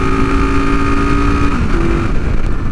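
A vintage carbureted Honda 450 motorcycle drones at high revs while riding, a loud, steady engine tone with some wind rush that shifts pitch slightly near the end, no voices.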